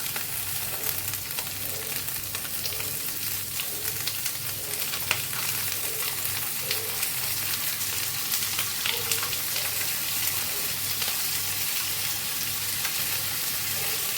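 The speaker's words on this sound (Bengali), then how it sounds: "আমার হাতের 1 মুঠো গোবিন্দভোগ চাল আমি এবার পেঁয়াজের মধ্যে দিয়ে ভাজি করে নিচ্ছি" A handful of Gobindobhog rice fries with browned onions in a pan for a spinach ghonto, a steady, close sizzle that runs without a break, with faint stirring scrapes and no voices.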